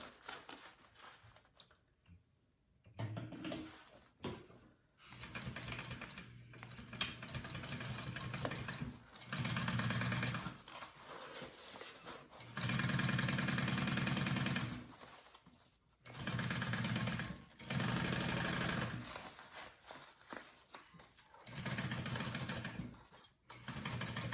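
Sewing machine stitching a backpack seam, running in repeated bursts of rapid mechanical whirring separated by short pauses and quiet handling sounds.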